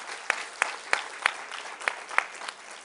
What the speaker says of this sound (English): I'm glad you were clapping for the good news